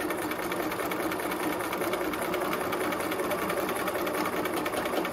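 A sewing machine stitching fabric runs in a steady, fast mechanical whir with a rapid needle rhythm, close and constant throughout with no talk over it.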